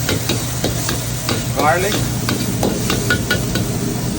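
Onions and garlic frying in a pan crackle with a constant sizzle while a spoon clacks and scrapes in a quick, uneven rhythm, close and fairly loud.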